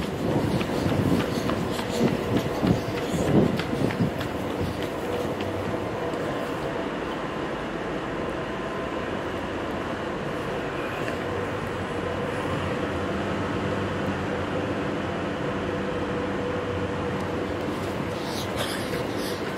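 A Tyne and Wear Metro train runs with a steady, close rumble and rattle of wheels on track, louder and busier at the start and settling into a continuous hum, with no voices over it.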